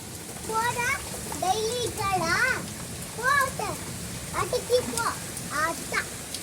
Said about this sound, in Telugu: బెంగళూరులో చల్లగా ఉంది, ఇంకా వర్షం పడుతుంది.